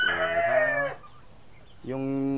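Brood stags and hens on a poultry farm crow loudly and close by, with a long harmonic crow, a short pause, then another crow rising at the end.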